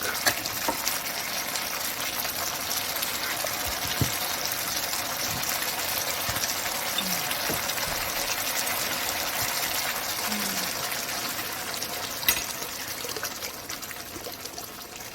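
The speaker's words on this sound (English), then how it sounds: "I am going to put coconut milk." Coconut milk pours into a pan of red Thai curry, making a steady close liquid trickle and gurgle that carries on throughout, with a few faint clinks along the way.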